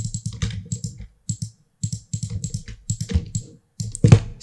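Photoshop portrait retouching brings rapid, close clicks of a computer mouse and keyboard key presses, including the Alt key, arriving in quick irregular bursts with short pauses and a heavier clack near the end.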